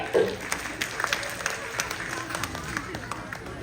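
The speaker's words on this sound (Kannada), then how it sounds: "ಜೋರ ಒಂದ್ ಚಪ್ಪಾಳೆ ಬರ್ಲಿ." An audience claps at a school drama performance: a dense, crackling burst of applause, fairly close, with voices mixed in.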